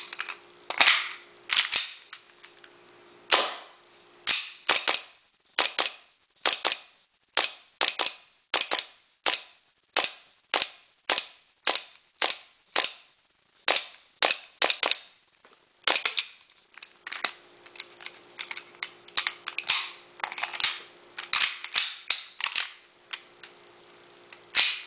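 A KJ Works 1911 tactical pistol, likely an airsoft replica, fires about thirty sharp cracks in steady rapid succession, some paired or clustered, loud and close with no talking.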